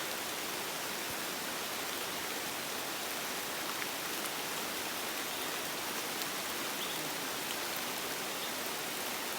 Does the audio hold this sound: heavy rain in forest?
yes